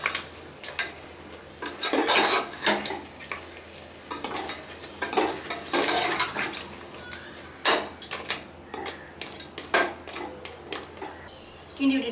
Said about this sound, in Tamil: பாதி ரைஸ் போட்டுட்டு மெதுவாக ஒரு தடவை கிண்டி விட்டுக்கலாம்